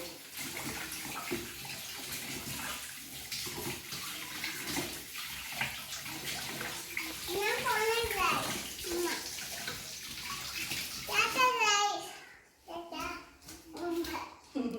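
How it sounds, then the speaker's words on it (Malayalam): A dusty vessel is washed under running water, a steady splashing wash with a few brief clatters, while an adult and someone talk over it. "പൊടിയല്ലേ ഒന്ന് കഴുകിയിടാം."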